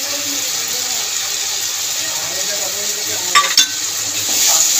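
Spice masala with coconut paste stirred and fried in a pan, a steady loud sizzle with scraping of the spoon and a couple of brief clinks near the end.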